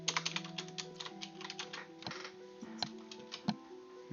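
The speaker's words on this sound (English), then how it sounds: "I need to finish typing this up." Rapid keystrokes on a computer keyboard, a steady run of close, crisp clicks with a few heavier key presses, alone with no talking.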